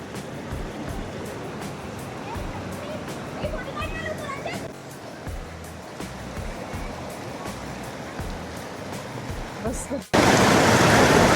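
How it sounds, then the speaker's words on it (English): Godchinmalki Falls near Gokak, flowing low in a dry year, sends up a steady wash of rushing water. Near the end the rush suddenly swells much louder and closer. "Just look at this majestic Gochinmalki Falls."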